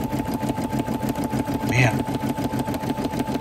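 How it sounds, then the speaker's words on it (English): A home embroidery machine stitches a logo with a fast, even mechanical chatter and a steady hum close by, while someone briefly speaks over it. "I didn't think a sewing machine would make me this stressed out"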